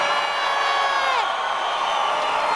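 A concert crowd at a show in Bogotá, Colombia, shouting and whooping in a dense sustained roar of many high voices, loud and continuous throughout.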